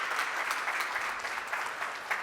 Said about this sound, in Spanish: así que también un gran aplauso para ellos.